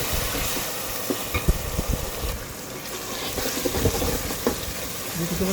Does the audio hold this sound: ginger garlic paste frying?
yes